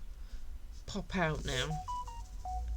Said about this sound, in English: That's my phone complaining that I haven't fed it enough.